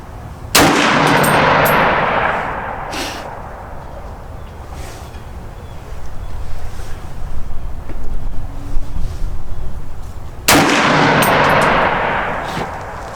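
Two loud, sharp gunshots from a Smith and Wesson M&P10 rifle fitted with a Vortex Strike Eagle scope, fired outdoors about ten seconds apart, each with a long rolling echo, and wind noise buffeting the microphone between them.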